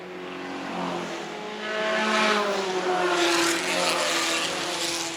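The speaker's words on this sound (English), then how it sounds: "Andrew Barron in car 57, the Lotus 7, and I have to say it didn't sound healthy to me when it went by" A Lotus 7 vintage race car with an unhealthy-sounding engine roars past at the Pittsburgh Vintage Grand Prix, its loud, rough engine note swelling as it goes by, alone without voices.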